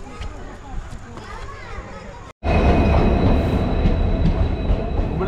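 A train at a railway station in Karnataka: rumbling wheels and squeals, which swell into a loud, close, steady roar after a brief cut, with people talking throughout.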